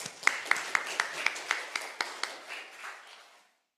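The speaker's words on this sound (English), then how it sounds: "Please join me in giving a warm welcome and round of applause" At an Asian think tank forum, a small audience welcomes a speaker with clapping: sharp, distinct claps fairly close by, evenly spaced at first, then thinning and fading to silence.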